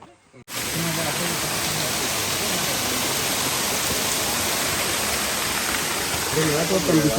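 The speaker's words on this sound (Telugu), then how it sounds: "చూడండి ఎంత బ్యూటిఫుల్ ఉంది వాటర్ ఫాల్స్" Katika Falls waterfall in the forested Araku Valley near Vizag, heard close and loud as a dense, steady rushing roar that starts abruptly and continues without a break.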